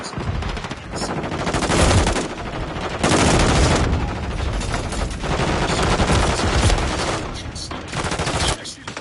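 Rapid automatic gunfire fills the Modern Warfare 3 match, dense overlapping bursts and loud sustained firing with brief gaps, close and heavy throughout.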